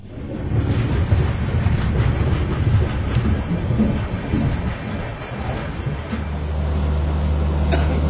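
The Kanchankanya Express stands at Bagdogra station on a drizzly day, a loud continuous low rumble of the train with clanking and a brief hiss, no talk.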